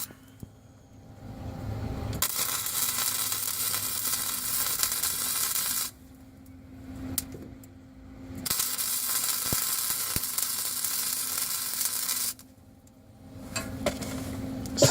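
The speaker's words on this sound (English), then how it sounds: "he's welding his end caps in down here to steady everything up" Arc welding of end caps during a V8 engine swap into a Chevette, heard as long steady buzzing, crackling bursts of several seconds each, separated by quiet pauses.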